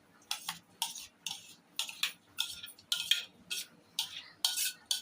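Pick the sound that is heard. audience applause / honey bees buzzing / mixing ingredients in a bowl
mixing ingredients in a bowl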